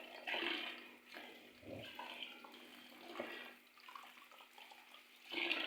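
Tap water runs steadily into a sink over cauliflower being rinsed, a soft continuous splashing with small surges and handling noises, fairly quiet and with no talking.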